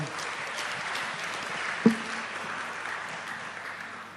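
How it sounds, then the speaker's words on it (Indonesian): An audience in a university lecture hall applauds with a steady wash of clapping, moderately loud and even throughout, with one sharp thump partway through. "kita beri aplaus lagi untuk jawaban beliau"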